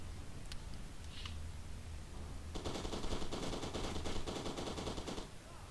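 Automatic pistol fire in the shooter game F.E.A.R. 2: a sustained rapid burst of shots, loud and close, lasting about three seconds after a quieter stretch of faint clicks and ambience.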